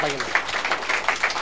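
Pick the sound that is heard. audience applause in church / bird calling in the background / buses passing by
audience applause in church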